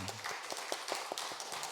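Church congregation clapping to welcome visitors during a Sunday service, a short burst of scattered handclaps at moderate distance, fairly quiet.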